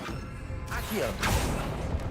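A summoning spell in Hogwarts Legacy that starts with a swooshing, creaking sweep and then a thudding mechanical rattle as an object is pulled in, over a steady game background.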